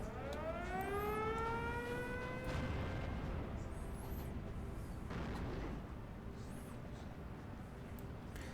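Artillery support fire in the WWII strategy game Steel Division 2 booms in heavy, rumbling blasts, with whistling shells rising and falling over the opening seconds and further dull impacts after.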